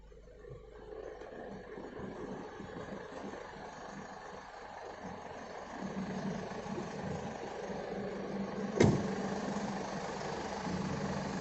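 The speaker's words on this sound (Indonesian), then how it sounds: "suara mesin, bagi yang tahu suara mesinnya pasti udah paham kalau ini mobil sehat-sehat saja" A 2014 Ford Everest Limited idles with the air conditioning off, a low, steady, fairly faint engine hum that continues unbroken, with one brief knock partway through.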